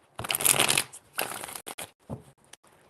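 Tarot cards are shuffled by hand in several quick riffling bursts, a long close flurry followed by shorter ones with brief pauses between, no voices.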